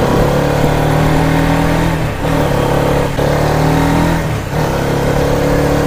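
A Hero Karizma XMR 210 motorcycle on the NH34 highway gives a loud, steady engine drone that pulls hard, with a few brief dips in pitch and level, and no voices over it.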